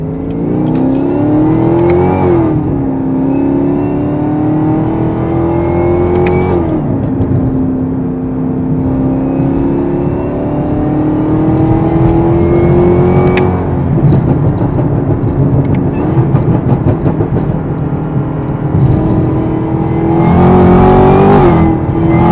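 A car fitted with a Corsa Performance cold air intake revs repeatedly, engine pitch climbing and falling in several loud sweeps with a gritty, aggressive intake roar, close and sustained throughout with no voices.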